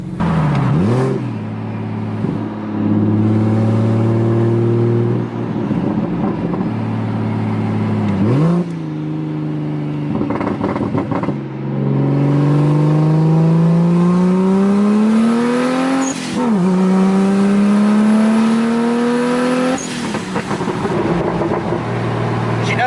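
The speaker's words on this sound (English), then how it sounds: "I figured I would take you on this drive with me in the 335i." A BMW 335i, said to badly need an exhaust, drives and accelerates, its engine tone climbing steadily through repeated gear pulls with brief dips at each shift, loud and close throughout.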